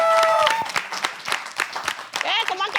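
A small group claps in scattered, uneven bursts while people talk and laugh over it, with the clapping close and irregular rather than a full ovation.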